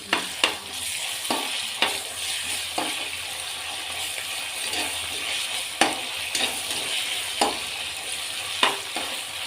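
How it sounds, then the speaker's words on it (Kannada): Ginger garlic paste frying with onions in a hot pan, a steady close sizzle broken by repeated sharp clanks and scrapes of a spoon stirring, with no talking. "ಶುಂಠಿ ಬೆಳ್ಳುಳ್ಳಿ ಪೇಸ್ಟು ಹಸಿ ವಾಸನೆ ಹೋಗೋವರೆಗೂ ಈ ಥರ ಫ್ರೈ ಮಾಡ್ಕೋಬೇಕು."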